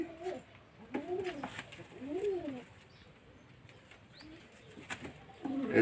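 Soft, low coos from a Kalshira pigeon repeat in a slow, rolling rhythm, fairly quiet and close, with faint background noise between calls.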